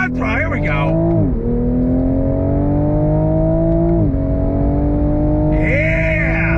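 A 2022 Toyota GR Supra with added aero on a track accelerates hard under throttle, its loud engine note climbing steadily in pitch through several gear changes, each marked by a brief dip before the rev build resumes close-up.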